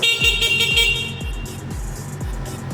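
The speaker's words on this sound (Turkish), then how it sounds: "En sevdiğimiz klakson" Horn of an RKS Bolero 50 cc motorbike toots in a rapid series of short, loud honks over a steady electrical whine, close and unaccompanied by talk.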